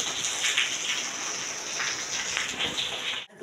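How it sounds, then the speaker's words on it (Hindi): Heavy rain pours steadily in a dense, hissing wash, close and loud, cutting off abruptly near the end. "बारिश बहुत ज़्यादा पई है,"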